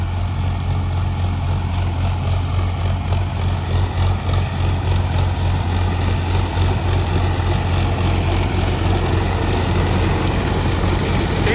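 A tractor pulls a Happy Seeder sowing wheat into paddy straw, its engine droning loud and steady with a deep, even rumble throughout.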